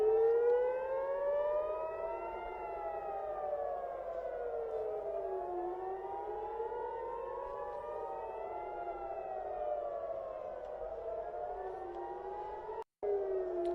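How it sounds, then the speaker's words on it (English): Air raid sirens in Tel Aviv during missile interceptions, several wailing civil defense sirens rising and falling in overlapping slow sweeps, steady and somewhat distant, with a brief dropout near the end. "we can actually see right here the sound of the air sirens once again"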